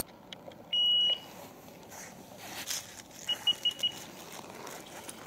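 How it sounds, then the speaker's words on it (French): A fiber optic pod built into a ghost box, triggered in a quiet forest at night, gives off a longer steady tone and then a quick run of four short beeps. "j'ai un pod à fibre optique intégré dans la Ghost Box, on verra bien si ça se déclenche"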